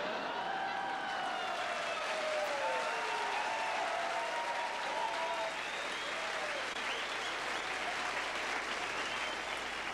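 Sustained comedy show audience applause fills the whole stretch, dense and steady, with faint crowd voices and a few cheers rising through the clapping.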